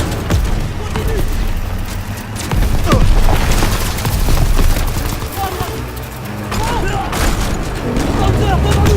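Dense battlefield gunfire from the World War II shooter Call of Duty WWII, with overlapping rifle and machine-gun bursts and heavy booms rolling continuously under shouted in-game voices.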